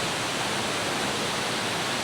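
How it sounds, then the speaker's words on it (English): A waterfall in Springbrook National Park pours as a steady, dense broadband rush, loud and continuous, with no voices. "I'm looking all at the waterfall"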